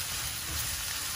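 Capsicum stir-fries in a pan for paneer manchurian, giving a steady, close, broadband sizzle with no talking.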